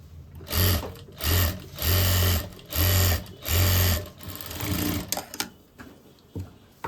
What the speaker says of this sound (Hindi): अब हम सीधा करके एक किनारे की सिलाई लगा लेंगे बिल्कुल